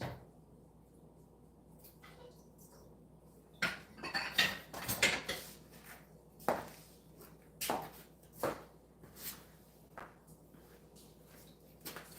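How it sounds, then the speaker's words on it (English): Silverware and dishes clatter as they are put away and loaded into a dishwasher, a series of irregular clinks and clunks, some loud and close, separated by quieter pauses. "Now that we've put these silverwares away, we can load the dishwasher with new dishes."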